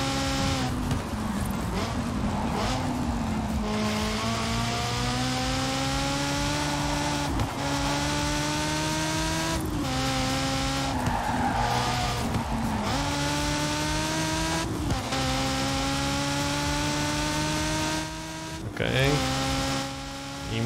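Lego car driving in Forza Horizon 4, a steady engine drone with rising and falling revs and gear shifts, loud and continuous for about twenty seconds, with occasional tyre noise.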